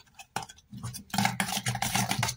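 A spoon scrapes and stirs ginger, garlic and green chili paste into a paneer marinade in a bowl, making a few close, brief mixing strokes that grow busier toward the end.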